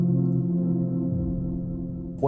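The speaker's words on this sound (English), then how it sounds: "What you just heard was Verispeed recording," A keyboard through varispeed recording plays a pitched-down, layered loop. A sustained low chord slowly sags downward in pitch, and a brief rising swoop comes at the very end.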